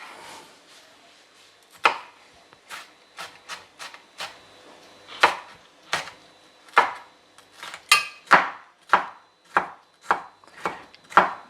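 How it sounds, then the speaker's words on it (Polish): Vegetables are chopped into pieces on a board, with a knife striking in close, crisp thuds. The strokes start sparse and irregular, then come in a quicker, steadier series. "A ja pokroję na kawałki warzywa."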